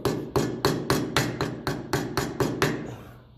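A hammer taps repeatedly on the steering box of a Massey Ferguson 35 tractor, about eleven sharp metallic strikes in a steady, quick rhythm, close and ringing briefly after each blow.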